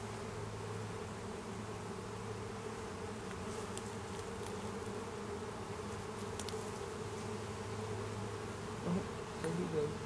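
Honeybees buzz around an open beehive during an inspection, a steady, moderately quiet drone holding throughout with a few faint knocks near the end.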